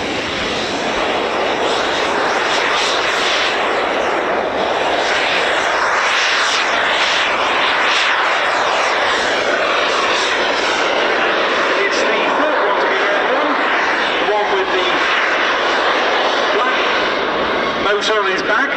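A twin-engine de Havilland Mosquito taxis at the East Kirkby airshow, its piston engines droning loud and steady for the whole stretch with a rising and falling growl, close to the listener.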